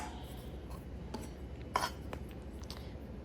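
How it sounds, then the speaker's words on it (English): A kitchen knife cuts fresh farm peaches into slices, giving faint, sparse taps and clinks against a cutting board in a quiet room. "Or I just keep the skin on and I just cut them in slices like this."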